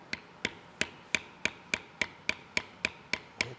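A beveling tool struck on leather for a knife sheath, eleven sharp, evenly spaced taps about a third of a second apart, close and crisp with quiet gaps between.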